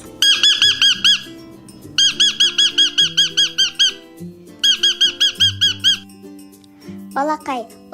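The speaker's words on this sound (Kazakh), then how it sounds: "Тотықұс." A parrot gives rapid, shrill squawking calls in three quick bursts, loud and close, followed by a short rising squeal, with soft background music underneath.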